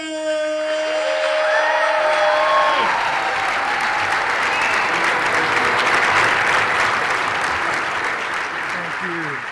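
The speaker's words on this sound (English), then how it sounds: "give us a round of applause for our speaker of the night" A Kansas City crowd applauds and cheers as Mayor Quinton Lucas is introduced as speaker of the night, sustained loud clapping with scattered whoops after an amplified announcer's voice, which tails off in the first couple of seconds.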